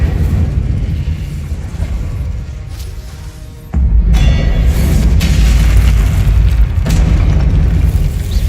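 Spell impacts in the Hogwarts Legacy video game, such as the Confringo and Incendio spells, land as loud, deep booming blasts that run continuously, with a heavier burst partway through.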